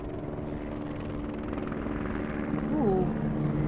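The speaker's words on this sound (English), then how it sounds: "Private helicopter." A private helicopter in a video game flies in, a steady rotor and engine drone that grows a little louder toward the end, with a brief swooping tone near the close and speech alongside.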